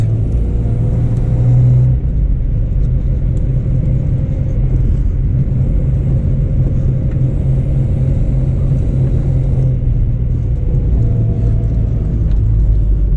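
A 1967 Morris Mini Mk1 drives with its cold engine running, a steady low rumble and hum filling the cabin throughout, loud and close with slight swells in tone and no speech.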